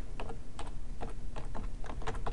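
Fingers typing on a computer keyboard: a steady, irregular run of close, crisp key clicks and taps over a faint background hum, with no talk.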